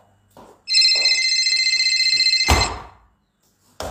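A mobile phone rings loudly in a steady electronic trill for about two seconds, cut off by a heavy thump, with a few soft knocks before it and another thud at the end.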